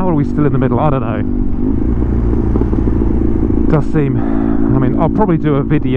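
Custom BMW R100 motorcycle riding along a road, its engine droning steadily and close throughout while someone talks over it.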